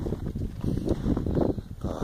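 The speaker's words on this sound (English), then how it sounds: "Now it's starting to really get cold when the wind's gusting up" Wind gusting outdoors in a garden on a cold day, a steady low rushing buffet against the microphone with slight swells, no voices.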